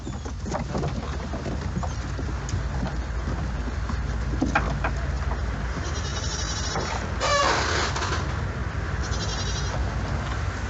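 Goats on Karlsøya island in Norway, several bleats and cries rising over a steady low rumble of wind or a boat engine outdoors, with a clear cluster of calls near the middle.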